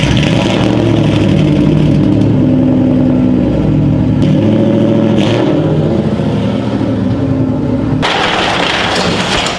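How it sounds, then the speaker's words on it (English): A Ford Mustang engine runs loud and close as the car is pulled out, a steady rumbling idle with a rougher, brighter surge near the end and no talking. "We're gonna pull the Mustang out though."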